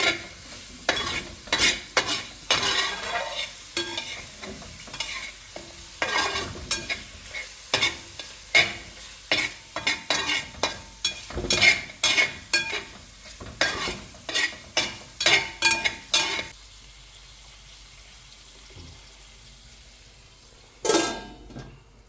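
Beef stir-fried in coconut oil with a spoon scraping the pan in steady, repeated strokes over a constant sizzle, close and loud, pausing near the end before one last scrape.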